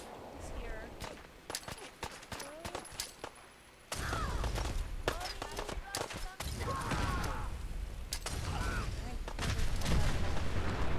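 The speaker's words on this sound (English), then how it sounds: "Holy crud, that was a huge explosion." Heavy blasts and rumbling gunfire erupt in Fallout 4, with sharp repeated bangs through the first seconds, then a sustained loud roar of explosive noise and debris that builds and stays dense to the end.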